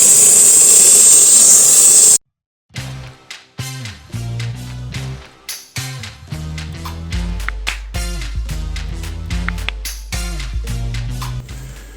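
Karcher SC5 steam cleaner used on a car, blasting a loud steady hiss of steam and hot water for about two seconds, then cutting off before intermittent music-like bursts follow.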